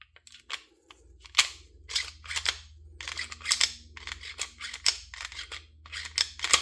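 A DPM Systems firearm part is compressed and snaps into place, giving a series of sharp, close metallic clicks and clacks in an uneven rhythm, heard on their own without talk.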